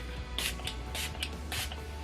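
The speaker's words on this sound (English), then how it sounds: "let's finish it off by setting everything with this Catrice Long Lasting Prime and Fine Setting Spray" Catrice Long Lasting Prime and Fine setting spray misted onto a face, three short close hissing bursts from the pump, each a fraction of a second long with brief pauses between them.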